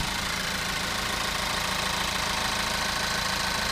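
2-liter engine of a 2015 Ford Focus hatchback running at a steady idle, a constant close, dense rumble with a slight knocking texture and no voices.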